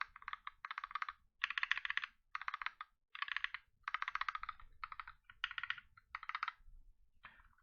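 Stock linear mechanical keyboard switches are typed on steadily in quick bursts, each keystroke a loud, scratchy clack close to the listener, with short pauses between runs.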